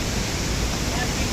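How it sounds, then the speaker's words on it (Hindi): Rushing flash flood water in Manali, Himachal Pradesh, roars as a steady, loud, unbroken wash of noise from start to finish, with no distinct voices. "तो गाइस पानी बहुत ज़्यादा आ रहा है"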